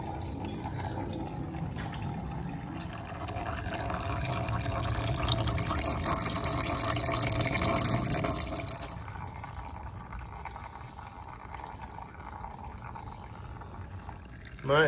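Diff oil drains steadily from the differential of a Toyota Hilux Vigo, a continuous trickling pour that stops after about nine seconds. Muffled voices sit underneath.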